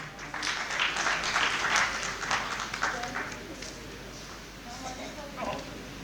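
An audience at a poetry gathering applauds to welcome a poet. A burst of clapping swells strongly in the first seconds, then thins to scattered claps and a low murmur of voices.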